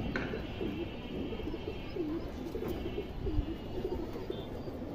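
An old-generation silver pigeon coos in soft, low, repeated phrases at close range, over a faint background hum.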